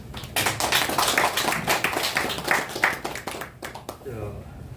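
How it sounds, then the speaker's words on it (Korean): Rotary club members at a lecture session break into a short round of clapping, sharp distinct claps at first that thin out toward the end, with a voice speaking around them. "큰 박수 한번 쳐볼까요?"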